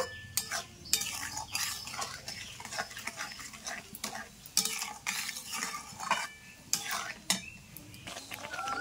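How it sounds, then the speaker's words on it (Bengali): Mango jelly chutney being stirred in a pan, with repeated scraping and clinking of a spoon against the pan in an irregular rhythm, close and moderately loud over a faint sizzle. "এখন কিন্তু ঘন ঘন নাড়াচাড়া করে নিতে হবে, নাহলে নিচে লেগে যেতে পারে"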